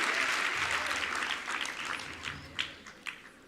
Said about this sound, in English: another big round of applause for Ms.